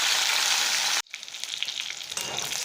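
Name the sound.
pointed gourd frying in oil with salt and turmeric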